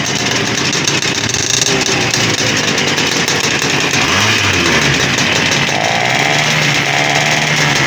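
Several Romet motorcycle engines running loud and steady for the whole stretch, a continuous buzzing two-stroke drone with slight revving changes, close to the microphone and with no talk over it.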